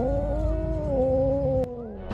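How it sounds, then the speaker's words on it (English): An angry pregnant cat trapped in a house lets out a sustained, wavering caterwaul, loud and close, with a brief sharp noise near the end. "they had to deal with a very angry pregnant cat that had got into one man's house."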